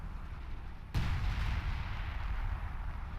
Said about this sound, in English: Artillery cover going down